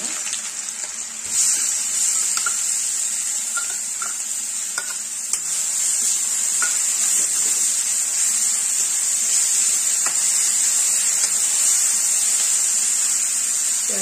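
Chopped onion dropped into about two spoons of hot oil in a pan for soya keema, giving a steady bright sizzle that holds for several seconds, alone with no talk.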